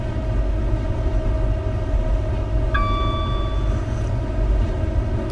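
A train runs in Train Simulator 2017 on a CrossCountry service toward the coast, a steady loud low rumble and hum of motion, with a brief bright chime tone partway through.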